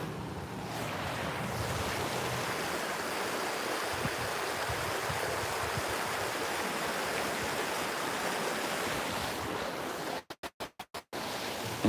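The St. Vrain River rushes steadily nearby, a dense continuous wash of flowing water that cuts out in a few abrupt stutters at the very end.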